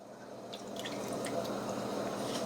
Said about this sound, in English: I'm going to pour in 1/2 cup of lemon